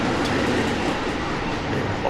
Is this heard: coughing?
no